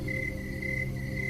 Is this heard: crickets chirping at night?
yes